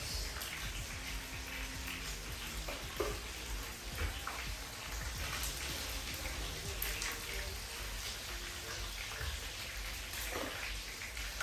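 Jamaican fried dumplings sizzle steadily in hot oil in a pan, a dense, continuous crackling hiss with scattered pops, close and fairly even throughout, with faint background sounds.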